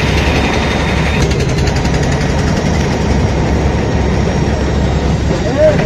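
A ferry engine drones steadily while crossing the Pasur river at Mongla, a continuous low rumble that holds loud throughout, with a faint whine and broadband wash over it.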